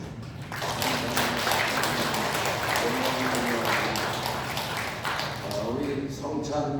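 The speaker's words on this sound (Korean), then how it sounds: "우리 하나님 앞에 감사와 찬송과 영광의 박수를 올려드리겠습니다." A church congregation claps steadily through a Sunday worship service, a dense, sustained wash of many hands close by, with voices ringing out beneath and over the applause.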